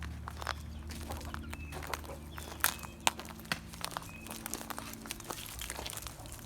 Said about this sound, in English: we've got some chickens just running around here